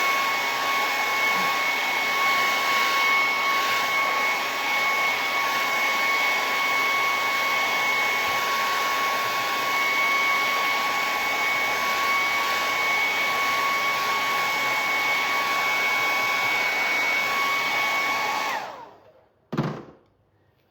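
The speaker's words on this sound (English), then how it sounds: "I might just hit that with a hairdryer, make sure that's completely dry" A steady, loud hair dryer drying paint on a wooden sign blows continuously with a constant whine, then cuts off abruptly near the end with a brief clunk.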